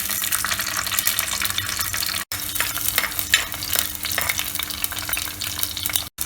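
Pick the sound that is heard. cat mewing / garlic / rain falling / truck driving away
garlic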